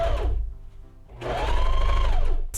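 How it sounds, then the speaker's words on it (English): Home sewing machine running a line of stitching to attach a pocket on a quilted jacket made from a thrifted blanket, a close, steady motor whir with a rising whine, pausing briefly then starting up again for a longer run. "I'm going to go sew my pocket on with 2 rows of stitching."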